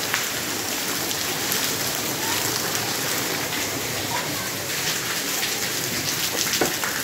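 Steady rain pours onto a house with wooden parts, a dense even hiss with scattered nearby drips and splashes continuing for several seconds.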